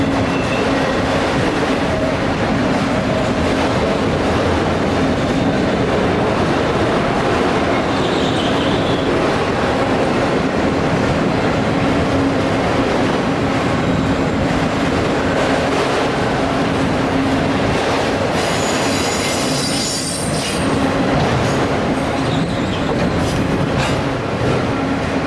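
Conrail freight train led by three locomotives rolling past at a distance near Allentown, Pennsylvania, a continuous rumble of wheels and cars with faint clatter and a brief squeal near the end.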